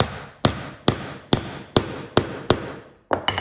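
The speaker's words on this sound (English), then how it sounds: "I'll take the hammer. We'll tap it in." A hammer taps a mast into a handmade toy sailboat, giving about seven sharp, evenly spaced wooden knocks close by, then a quick flurry of lighter taps at the end, with no talking.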